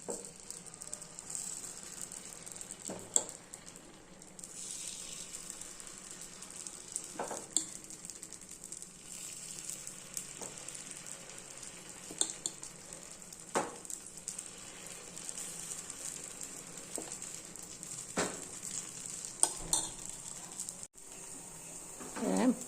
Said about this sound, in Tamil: இப்போ நம்ம காரக்குடி பணியாரம் ஊற்றிக்கலாம்